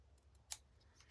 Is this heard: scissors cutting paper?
yes